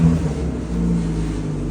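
A Dodge Challenger engine rumbles and revs with a deep, steady low drone, close and loud, without any voices.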